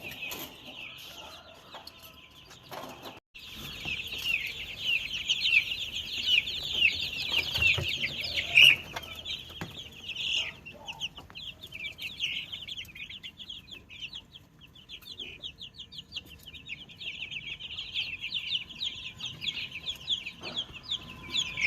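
Constant high-pitched peeping of many native country chicks with occasional clucks from hens, continuing steadily throughout at moderate loudness.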